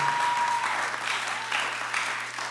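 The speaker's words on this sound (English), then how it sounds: "Give them a round of applause." An audience at a college event gives a round of applause, a dense steady clatter of clapping hands over a faint low hum.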